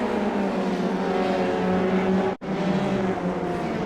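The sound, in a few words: race cars at Lime Rock in a sim racing video game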